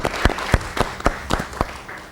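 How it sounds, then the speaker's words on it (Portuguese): A handful of distinct, separated claps from a small audience welcoming a panel guest at a justice conference in Mozambique, sounding sparse and fairly close, with no talk over them. "Uma salva de palmas ao Dr. Nkutumula, por favor."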